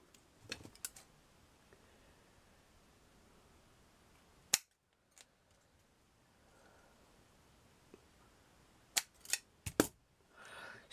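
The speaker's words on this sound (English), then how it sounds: "Right, I need to trim those down." Small pieces of a miniature seaside surfing shack trimmed down with sharp clipping snips, a quick cluster at the start, one loud isolated snip midway, then a final flurry of cuts in an otherwise quiet room.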